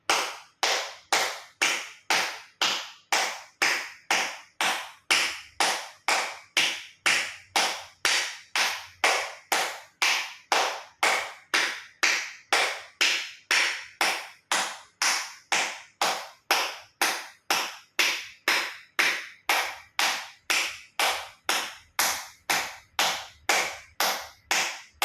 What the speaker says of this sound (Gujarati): હથેળી આંગળીઓ બધું ટચ થાય રીતે 50 વખત જોરથી તાળી આપીશું